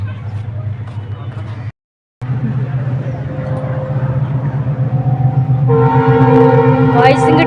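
A train rumbles past a park with a low, steady roar, building louder toward the end as horn-like tones ring out over the rumble.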